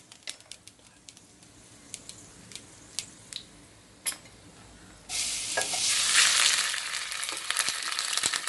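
Potatoes frying in a pan while making pui saag, spinach with fish head: after a few light clicks and taps, a loud, steady sizzle starts and continues close up, with no talking.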